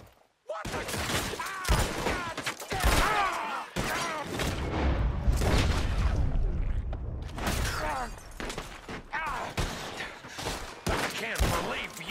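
Gunfire erupts during an ambush in Red Dead Redemption 2, with dense bursts of shots and booms rolling across twelve seconds, loud and close, mixed with shouting voices and brief pauses between volleys.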